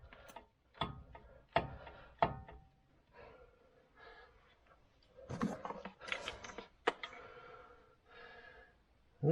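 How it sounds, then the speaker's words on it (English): Brake caliper piston being forced back into its bore on a Suzuki Jimny front brake, heard as sharp close clicks and metallic knocks with irregular scraping bursts, quiet between the efforts, no talking. "all I'm trying to do here is force the piston all the way in"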